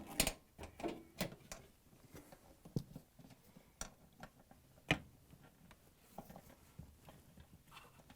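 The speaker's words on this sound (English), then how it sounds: "push down and secure it with a screw using the 5/16" socket wrench" Socket wrench with a 5/16-inch socket driving a screw into a Frigidaire/Electrolux drain pump, giving a run of sharp, uneven ratchet clicks and knocks scattered across the clip, fairly close and alone.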